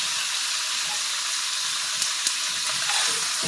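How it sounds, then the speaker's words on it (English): Vegetables sauté in bacon and sausage grease for a Louisiana jambalaya, giving a steady, close sizzling hiss with a couple of sharp pops near the end, with no talking. "we're going to use the grease from the bacon and sausage to saute our vegetables"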